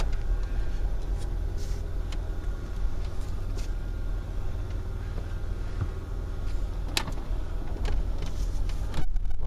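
A car is being driven, giving off a steady low engine and road rumble with faint rattles and a couple of brief clicks, and no talk over it.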